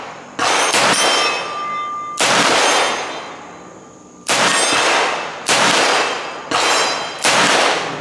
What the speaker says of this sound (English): we're gonna do some 158 grain Magnums